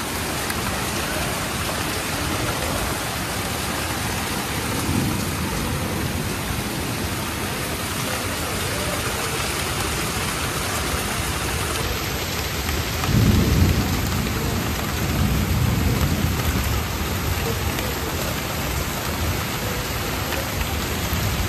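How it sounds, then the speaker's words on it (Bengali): Heavy evening rain pouring steadily outside an open window, a dense loud hiss with wind, and low rolls of thunder swelling twice midway, no voices. "কি সাংঘাতিক বৃষ্টি হচ্ছিল আর ভীষণ হাওয়াও হচ্ছিল"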